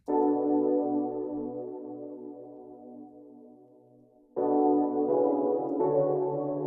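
Sustained electric piano chords from the E Piano 2 preset, with a shimmering chorus and lush reverb, one long chord fading slowly before brighter new chords strike in.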